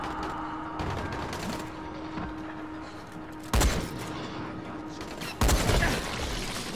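Gunfire from an enemy in the video game Dying Light, heard as two sharp, loud bursts over a steady mechanical background hum.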